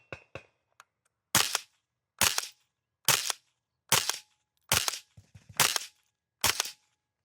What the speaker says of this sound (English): We're just gonna get a little bit of a feel for some longer distance shots here as well.